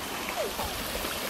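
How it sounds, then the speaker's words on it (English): Water flows steadily over a creek crossing on a bushwalk, a continuous close rushing and trickling wash with no pauses. "We're just at this cool creek crossing."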